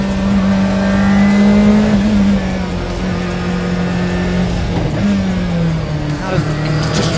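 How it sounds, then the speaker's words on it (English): A supercharged and turbocharged rally car accelerating hard, its engine drone rising and falling in pitch as it pulls away, with a voice talking over it. "The supercharger brings it up, and then the turbo takes over."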